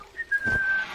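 A brief, clear whistled tone from a character in the game Wizard101, a single sustained note that slides slightly downward, close and alone over a faint background.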